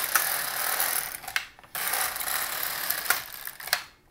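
An LK-150 knitting machine carriage runs back and forth across the yarn, a loud, continuous mechanical rasp and clatter in two long passes separated by a brief pause.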